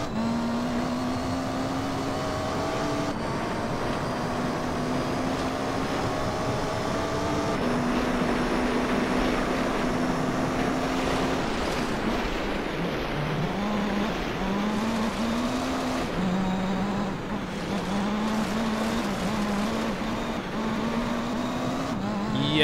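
An off-road rally car in the Gran Turismo Concept 2002 Tokyo-Geneva game drones steadily, its engine pitch rising and falling with gear shifts and revs over a long stretch, loud and unbroken with no talk.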